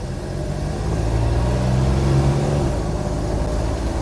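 An old Jeep CJ5 with a soft top pulls away, its mid-pitched engine rumbling steadily and loudly throughout with slight rises in revs, no talking.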